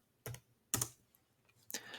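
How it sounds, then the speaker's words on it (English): Three clicking keystrokes on a computer keyboard, spaced apart and faint, close to the microphone in a quiet room with no talking. "We're going to create it by typing Style and hitting Enter."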